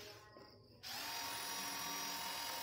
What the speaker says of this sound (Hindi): अब हम 4 mm के ड्रिल बिट को इसमें हम यूज कर रहे हैं।